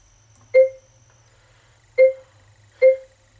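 Three short, clear dialing beeps from a Pioneer AVIC-F30BT car navigation unit are keyed in one at a time with uneven gaps, crisp and close over a faint background hum.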